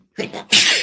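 A single loud sneeze, a sharp two-part burst with a quick inhale before the explosive release, close to the listener.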